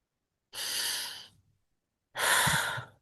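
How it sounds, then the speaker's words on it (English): Two slow, deep breaths through the nose, each a long breathy rush lasting about a second, close and clear with quiet pauses between and no talking. "You can do deep breathing also."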